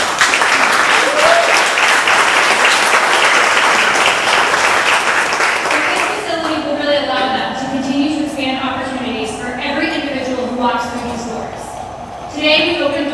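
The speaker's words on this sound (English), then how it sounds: "so let's just give them a big round of applause." Loud crowd applause at a ribbon cutting for the Arc building, dense clapping for about six seconds, then fading into scattered claps and voices as the crowd settles.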